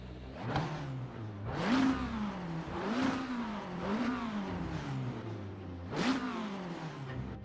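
A McLaren 720S GT3 Evo race car, a Race Sim Studios mod in a racing sim game, revs repeatedly, its engine note sweeping up and falling back in several loud, close surges.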